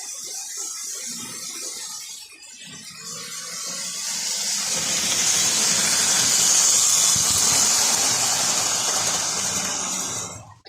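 A Lionel electric model train rolls past on its track, a soft rumble rising into a loud, steady hiss and whir that builds, holds for several seconds close by, then cuts off abruptly.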